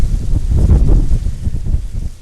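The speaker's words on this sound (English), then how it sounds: "We gotta be careful the wind doesn't blow us over out here." Strong gusty wind roars over the microphone outdoors in a sweet potato garden during harvest, a loud low rumbling buffet with no voices.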